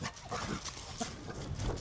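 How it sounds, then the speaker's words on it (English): A dog outdoors in a backyard giving a few rough, muffled barks and grunts amid close handling noise, fairly faint, with no clear talk. "are you barking?"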